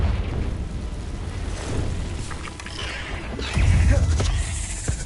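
In Hogwarts Legacy, the Confringo fire spell bursts against spider enemies, a loud, rumbling blast over steady battle noise, with a heavier boom swelling near the end and no speech.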